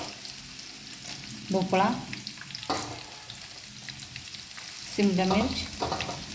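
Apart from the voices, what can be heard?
vegetables frying and stirred in a pan for masala rice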